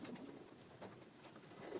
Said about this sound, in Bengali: আবার কিং কবুতর দেখতেছি এর সাথে আবার গুটুর গুটুর করতেছে